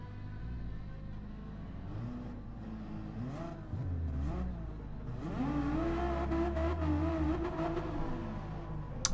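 A Peugeot race car engine in Gran Turismo 7 drones in a low, buzzy tone, its pitch dipping and rising as it revs through gear changes, steady and close, with no voices over it.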